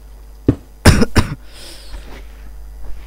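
A sharp cough bursts out close to the microphone, followed by a second heavier double cough, then quiet room noise.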